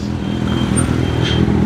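A heavy motorcycle rumbles steadily while being ridden on a road, a continuous loud low engine drone with faint clatter and no gaps.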